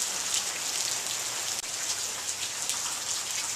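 Heavy rain pours steadily outside a house, a dense, continuous hiss of drops on surfaces with no pauses, close and fairly loud, with no talking.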